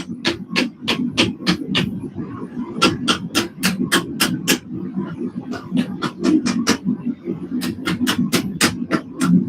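Hammer blows on hot metal at the edge of an anvil during blacksmith forging, a steady rhythm of sharp, close ringing strikes in quick runs with brief pauses, over a constant low roar from the forge.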